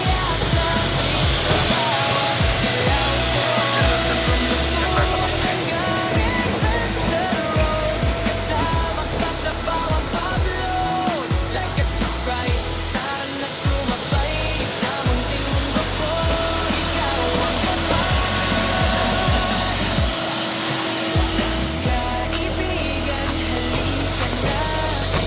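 A floor scrubber works over dirty tiles during housekeeping cleaning, giving a steady, loud motor drone with a continuous scrubbing wash that runs without a break.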